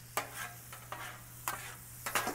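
Sweet potato candy yams being stirred on a Blackstone griddle, with a few distinct scraping strokes of a utensil over a steady background hum and faint sizzle, close and fairly quiet.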